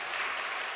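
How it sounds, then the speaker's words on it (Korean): Applause from an audience greeting peace ambassadors at a church gathering, a brief dense wash of clapping with no voices. "우리 평화대사님들 나오셨는데 박수 한번 보내겠습니다"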